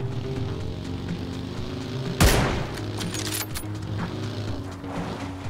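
A single loud gunshot cracks out midway in the video game PUBG, with a short ringing tail, over a steady low engine drone from a vehicle that continues throughout.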